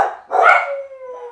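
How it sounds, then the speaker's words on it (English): A dog gives a single loud, close bark that trails into a short howling whine, heard during an indoor live stream with no talk over it. "There go the dogs."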